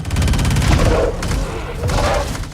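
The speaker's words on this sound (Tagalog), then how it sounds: "may nakita siyang baril at nagpaputok sa halimaw" Loud gunfire bursts in a sci-fi action film scene as a gun is fired at a monster, two dense rapid volleys filling the space with booming impacts.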